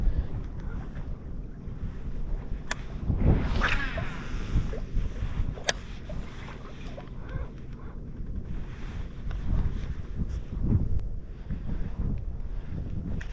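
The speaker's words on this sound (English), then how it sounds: "you can see how strong the wind is" Strong gusting wind buffets the microphone over a tiny bayou whipped into near whitecaps, a continuous rough roar with louder bursts and faint water slaps, no voices.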